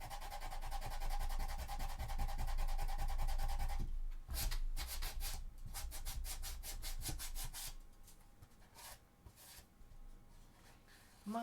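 Rhythmic hand sanding of a cosplay prop, first a continuous scratchy rub, then quick repeated back-and-forth strokes, fairly quiet and close.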